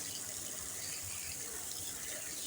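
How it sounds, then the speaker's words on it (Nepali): Water is poured over a cat during a wash, a steady, soft splashing flow that runs without break and is heard alone. "यसरी म पानी लाएर धुन्छु है यसलाई।"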